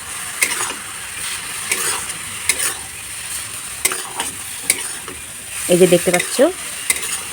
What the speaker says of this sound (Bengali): আর অনবরত নাড়াতে হবে খুন্তিটা।